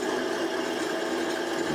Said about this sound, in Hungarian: Hallható, működik az adagoló